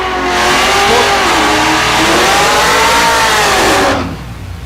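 Naturally aspirated big block drag race car engine revs loud and close at a drag strip, a sustained high rising roar holding steady for about four seconds before cutting off abruptly.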